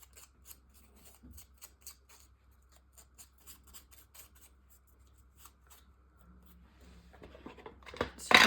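Scissors trim the excess off a paper card-making piece in a quiet room, a series of small, crisp snips at a steady rhythm, followed by a louder rustle and handling noise at the end.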